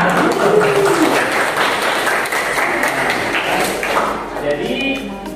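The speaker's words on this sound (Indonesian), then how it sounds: "saya beri tepuk tangan semuanya." A classroom of students bursts into applause, a dense burst of clapping that runs for several seconds at close range, then fades as a voice starts talking.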